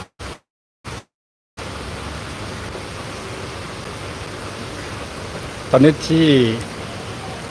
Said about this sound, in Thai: ฝนกำลังตกหนัก ตกค่อนข้างหนักครับ